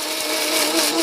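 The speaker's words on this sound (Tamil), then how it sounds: "so mixie" A kitchen mixer grinder whirs steadily, blending a chutney with added salt; the continuous motor drone runs loud and close with no talk over it.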